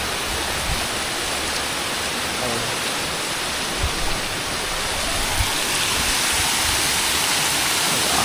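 Panwal waterfall pouring among green hills, a loud, constant rushing roar of falling water filling the whole scene without a break, close and unvarying, with no voices.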